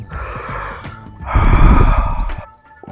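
Close, heavy breaths rush in and out near the microphone, a sharp intake followed by a longer, louder exhale.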